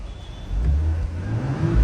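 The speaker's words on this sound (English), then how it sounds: "Let me just quickly rev it out." A 2019 Porsche Cayenne S with a 2.9 litre twin-turbo V6 revs briefly, a low rumble swelling after a short idle and holding steady, close and alone.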